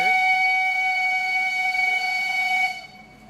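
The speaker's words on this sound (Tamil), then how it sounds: "இப்போ டிடிஆர் வந்து விசில் அடிச்சிட்டாரு" A train guard's long, shrill whistle blast on the Mettupalayam to Ooty mountain railway holds steady for almost three seconds and then cuts off, leaving a faint murmur of voices behind it.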